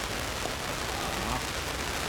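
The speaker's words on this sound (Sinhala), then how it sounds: "නෑ මේක දිගට වහිනවා." Rain falling steadily at an outdoor cricket match, a dense, even hiss of drops covering the whole moment without breaks.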